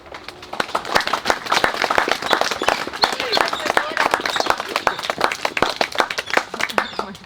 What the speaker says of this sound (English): Round of applause for their public speaking, their beautiful vows